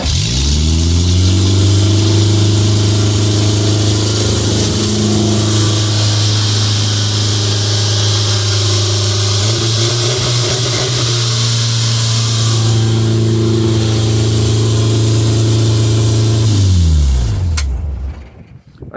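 A Volvo derby car engine runs loud and close with a rough mechanical drone, rising through a few revs midway before settling and then shutting off near the end.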